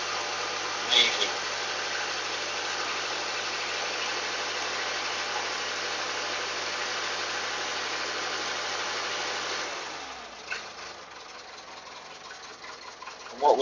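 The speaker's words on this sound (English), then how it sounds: "The old Perkins engine." An old Perkins diesel engine in a Massey Ferguson 690 tractor idles with a steady, even drone close by, then drops away near the end as it winds down.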